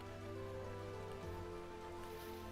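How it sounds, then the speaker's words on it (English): Steady rain from the video game Vintage Story hisses softly and constantly under a low, quiet droning backdrop, with no voices. "Oh yeah, more rain."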